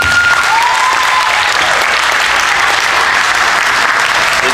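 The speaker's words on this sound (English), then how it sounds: "a round of applause for that" An audience at a WWE Royal Rumble community event at a Salvation Army Boys and Girls Club gives a loud, sustained round of applause, dense clapping close and continuous for the whole stretch.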